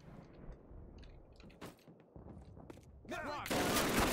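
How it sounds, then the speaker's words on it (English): M1 Garand rifle shots in Call of Duty during a D-Day airborne mission, several sharp game gunshots spread over a few seconds amid a noisy battle mix, ending in a loud sustained burst of fire. "Taking four Garand shots."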